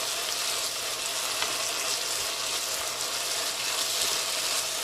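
Pork belly searing in a hot pan for jjamppong, heard as a steady, close sizzling and crackling with occasional small pops and no voices.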